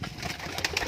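Desi colour-matched pigeons coo softly inside a home loft, a short, close murmur of overlapping calls.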